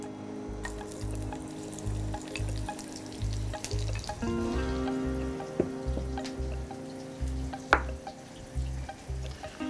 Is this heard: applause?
no